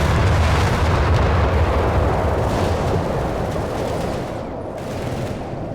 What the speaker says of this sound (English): there's the carpet bombing run